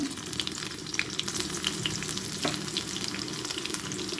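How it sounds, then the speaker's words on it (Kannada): Garlic sizzles in hot oil as a tempering for sambar, a continuous, crackly frying hiss close by with light stirring scrapes and no talk. "ಸ್ವಲ್ಪ ಎಣ್ಣೆ ಹಾಕ್ಕೊಂಡು ಬೆಳ್ಳುಳ್ಳಿ ಹಾಕ್ಕೊಳ್ತೇನೆ"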